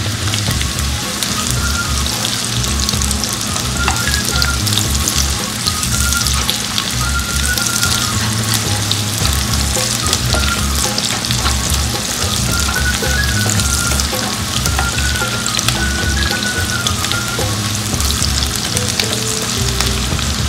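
Onions frying in a pan for a fish fillet with mango dish, giving a steady, close, loud sizzle that runs without a break for twenty seconds, with occasional stirring and no voices.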